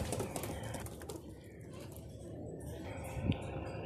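Pigeons, young golden teddy breeders, coo softly in the background, faint and intermittent beneath low ambient noise.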